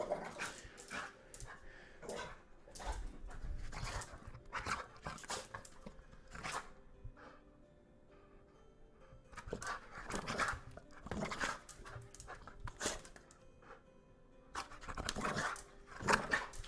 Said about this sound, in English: Nobody wants to hear you anymore, little dog.